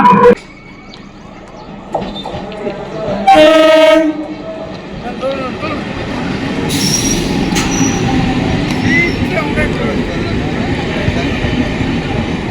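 A train runs along a line right beside railway slum homes. It sounds a short, loud horn blast, then its wheels keep up a steady, close rumble with some squealing, while people's voices are heard faintly.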